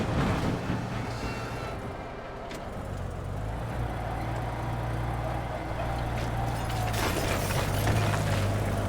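A dump truck in the Teardown video game drives through the legs of a building, its steady engine rumble carrying throughout with crunching, shattering impacts and a rising roar near the end.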